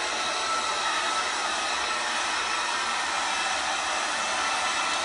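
A heat gun blows hot air onto a Kydex sheet, a steady close, even hiss with no pauses.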